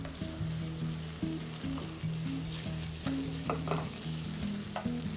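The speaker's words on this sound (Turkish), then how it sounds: "biraz kavuruyoruz" Beef sautés with onions in a hot pan, a steady crackling sizzle near and loud with intermittent scraping stirs throughout.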